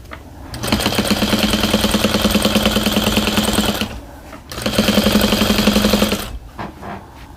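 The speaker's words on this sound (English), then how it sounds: "just sew from pin to pin" A sewing machine stitches a receiving blanket in two long, steady runs of rapid needle chatter, each lasting a few seconds, with a brief pause between them and a few soft handling clicks at the end.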